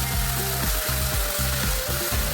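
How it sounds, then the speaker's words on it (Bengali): Whole spices, dried red chilli, cumin, bay leaf and grated coconut fry in hot oil with a loud, continuous sizzle and rhythmic scraping strokes of a spatula stirring the pan. "এরপর তেলে দিয়ে দেব শুকনো লঙ্কা, গোটা গরম মশলা, গোটা জিরে, তেজপাতা, একটু ভেজে নারকেল কোড়া দিয়ে দিলাম"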